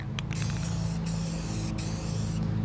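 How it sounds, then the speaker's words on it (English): A Rust-Oleum Stops Rust aerosol can of regular spray paint hisses in short close bursts, several brief sprays separated by pauses over a low hum. "So first we're going to spray the regular Stops Rust."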